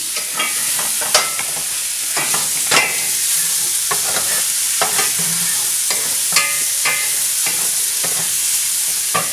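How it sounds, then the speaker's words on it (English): Mushrooms sautéing in butter in a pan for beef stroganoff give a steady, loud sizzle, broken by repeated scraping and tossing strokes across the whole stretch, with no talking. "so now we are going to saute our mushrooms"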